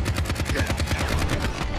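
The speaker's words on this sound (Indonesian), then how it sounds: "Celine datang menembaki Marcus, namun Marcus berhasil menghindari tembakan Celine dan menyerangnya" Rapid automatic gunfire in a film action scene, a dense steady rattle of shots at an even fast rhythm, loud and continuous for the whole stretch with no talk.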